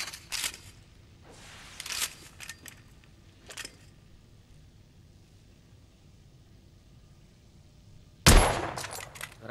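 A few scattered sharp gunshots in The Order: 1886, with one loud, close rifle blast near the end and quiet stretches between.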